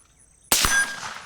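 A bullet striking a steel target during shooting with a 1-6x24 LPVO-equipped rifle: one sharp metallic clang with a brief ringing tail, heard in isolation after near silence.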